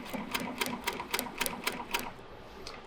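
An industrial walking foot sewing machine stitches material in a quick run of sharp, evenly spaced needle clatters that slow and trail off near the end, heard close and alone.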